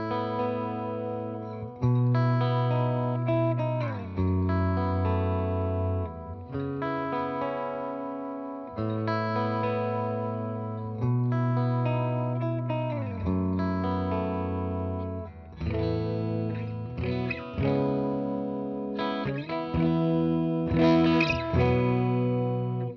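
A Vintage VS6 30th Anniversary electric guitar played on its middle pickup strums a run of chords through distortion and chorus effects, loud and up close, with rhythmic changes and sustained ringing between strokes.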